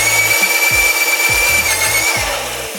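A power drill works on a Toyota Tacoma, its high whine running steadily close by while repeated low grinding bursts pulse in a rough rhythm as the bit bites in.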